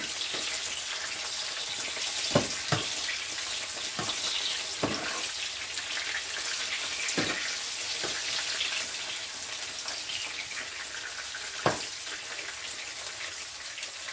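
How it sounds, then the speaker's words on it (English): Eggplant frying in a pan for a soy sauce stir fry gives a steady, close hiss of sizzling oil, broken by a few sharp clicks and taps of stirring. "You can hear that sizzling sound."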